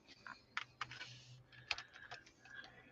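Someone types on a computer keyboard with quiet, irregular clicks and taps, a few keystrokes landing sharper than others, over a faint low hum, with no talking.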